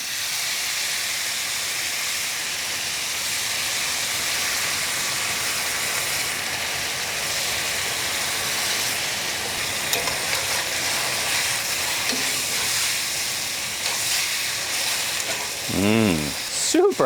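Pasta sauce ladled into a hot cast iron pan with pasta, giving a steady broad sizzle and hiss throughout, with brief scraping and stirring sounds near the end.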